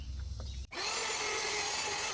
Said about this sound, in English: plunge it all the way down, start the cut.